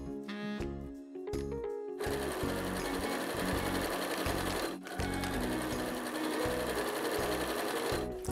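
A sewing machine stitching a baby quilt runs loud and close in a steady rapid mechanical whir, with a brief start-stop at the beginning and short pauses midway.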